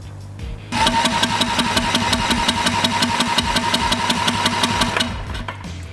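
A small vertical shaft engine, checked for its fuel pump, starts up and runs with a steady, rapid knocking chug, loud and close, for several seconds before cutting off, with no talking.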